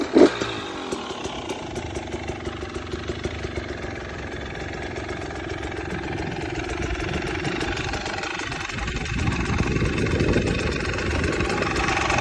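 A trike built around a 2022 KTM 300 TPI two-stroke motorcycle engine idles with a rapid buzzing putter, then revs and pulls away, the engine note rising and swelling loudly toward the end.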